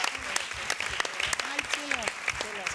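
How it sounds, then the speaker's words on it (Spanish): An audience at a social work conference in Zaragoza applauds a panel, with sustained crowd clapping and brief voices heard within it. "Por favor, un fuerte aplauso a la mesa."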